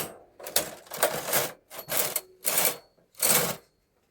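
A home knitting machine carriage is pushed across the needle bed, knitting a row for an adult V-neck vest, giving a series of close, loud rattling swooshes in about five bursts with short gaps between, and no speech.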